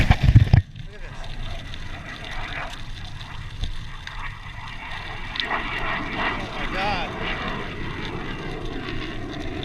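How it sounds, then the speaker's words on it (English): A fighter jet doing aerial stunts and power dives over a golf course, a distant roaring drone that slowly swells, heard from a trail after a loud knock at the start, with people talking. "there's actually a jet doing aerial stunts."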